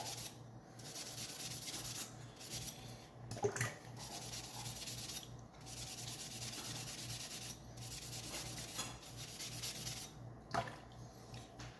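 A rusted knife blade is worked back and forth against an abrasive in the field, giving rhythmic close scraping strokes in repeated bursts with short pauses between them.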